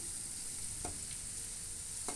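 Onion slices fry in a pan with a soft, steady sizzle and a couple of faint stirring scrapes, close and quiet with no talk.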